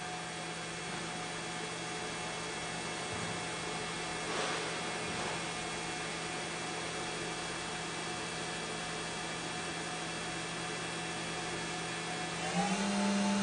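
A MAQFER QP-1620 motor runs steadily at 10,000 RPM, giving a continuous, even whirring hum with a faint whine and no breaks, alone and without talk.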